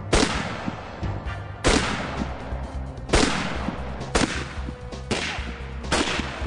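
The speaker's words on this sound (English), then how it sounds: "Mike meets with Rick Dunn at the Bull Meadow Rifle Range to perform his own battery of tests" Rifle shots fired at a block of ice at an outdoor rifle range, five loud sharp reports at roughly regular intervals, each followed by a long echoing decay.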